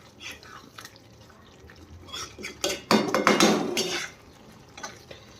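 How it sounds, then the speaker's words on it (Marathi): Chicken liver being stirred into masala in a pan, with metal clatter, scraping and wet sizzling that swell into a loud burst of clinking midway, then fade to sparse taps. "आपण यामध्ये कलेजे मिक्स करणार आहे"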